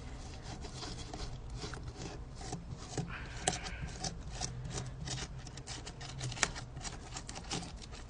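Steady dry rubbing of material by hand across a surface while building a vivarium, a continuous close scratchy friction with no pauses and no talking.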